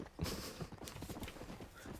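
Horse hooves clip-clopping in Red Dead Redemption: a few soft, uneven hoof thuds at a slow walking pace, faint and close, set in quiet outdoor game ambience with no talking.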